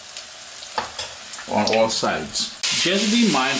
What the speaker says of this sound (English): I'm just going to flip it now with a fork like so. Flip it, because we want even frying